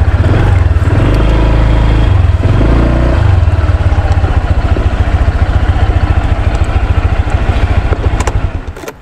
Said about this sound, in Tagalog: Dito ko na lang paparado yung motor.